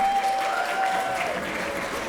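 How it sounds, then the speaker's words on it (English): A crowd gives a round of applause for the winners at a community event in Carson, a dense, steady clapping that carries on evenly for a couple of seconds with no talk. "give a round of applause to all your supporters that are here today"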